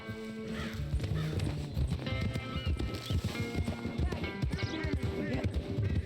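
A horse whinnies over steady clip-clopping hooves in Red Dead Redemption 2, with busy layered sound around it; the hoofbeats keep a quick, continuous rhythm throughout.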